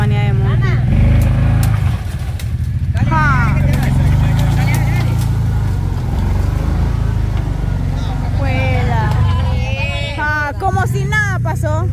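A loud quad bike engine roars continuously close by, revving and droning while several people shout and talk excitedly over it.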